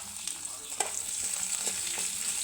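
Garlic, ginger and urad dal frying in hot oil, a steady crackling sizzle with a few scattered pops, close and fairly loud, with no talk.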